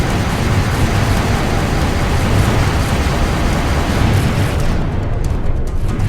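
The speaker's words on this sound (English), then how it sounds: "We're reading an explosive device inside the deck. Detonation detected." A detonation of an explosive device on a ship's deck fills the sound with a loud, sustained rumbling roar that stays dense and heavy for several seconds before thinning slightly near the end.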